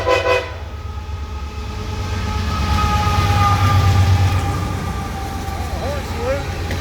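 An empty CSX grain train led by an older locomotive sounds its horn in salute, a loud sustained blast over the heavy rumble of the passing train, rising and then fading near the end.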